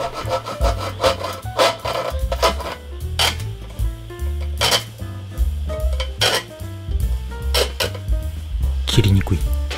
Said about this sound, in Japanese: 材料が決まったら寸法に合わせてカット、金の子で切っていきます。